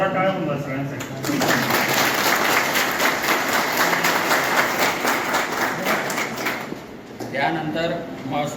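At a district revenue day event in Jalgaon, a loud burst of applause rises after a voice, sustained dense clapping for several seconds before tapering off, with speech resuming at the end.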